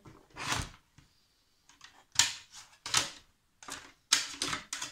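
Scissors cut a 30 by 30 centimetre square of paper for a craft project, a series of close, crisp snipping and rustling bursts separated by short pauses.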